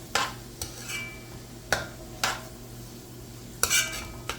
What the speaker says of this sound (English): we're going to stir everything up together into the pot